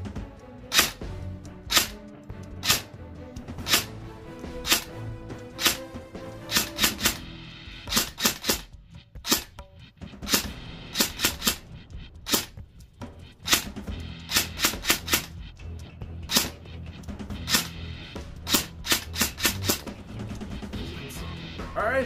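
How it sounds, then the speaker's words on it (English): BBs from an E&C 417 airsoft rifle strike a tree outdoors in a long series of sharp, loud cracks, some single and some in quick bursts, with no talk. "you'll hear it once the BBs strike it"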